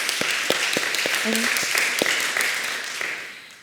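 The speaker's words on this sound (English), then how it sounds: "let's give her a round of applause" Audience applause at an academic lecture, a spread of claps filling the hall at moderate level, with a brief voice or tone rising through the middle before the clapping thins toward the end.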